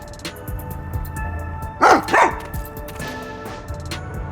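A dog in the detective game Master Detective Archives: Rain Code (Halara DLC) gives two quick, loud barks close together at mid-clip, set over a steady bed of game ambience and music.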